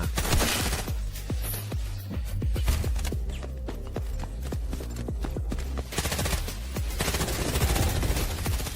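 Gunfire in the shooter game Delta Force: rapid bursts of automatic fire, sharp repeated cracks in quick rhythmic runs, loud and close, continuing through the whole stretch with brief gaps between volleys.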